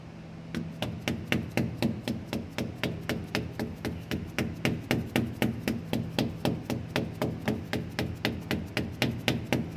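Steady rhythmic hammer taps seating a seal into the rear differential of a 2003 Ford Ranger pickup, about three sharp metallic knocks per second, close and consistent for the whole stretch.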